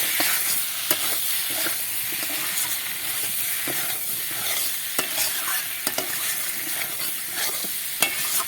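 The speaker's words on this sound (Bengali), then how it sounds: "তাহলে আমার এটা কষানো হয়ে গেছে" Pointed gourd and potato curry sautéing in a pan, a dense, steady sizzle with frequent spatula scrapes and clicks recurring throughout.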